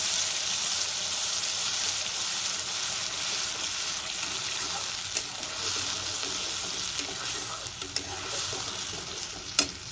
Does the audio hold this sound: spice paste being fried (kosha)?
yes